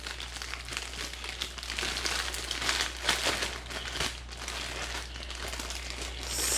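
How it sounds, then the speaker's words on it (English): Shredded cheese handled inside a plastic Ziploc bag gives steady crinkling and rustling of the plastic for several seconds, close and moderately loud, with no talking. "place it into a Ziploc bag"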